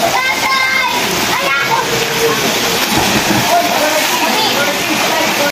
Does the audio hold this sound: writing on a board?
no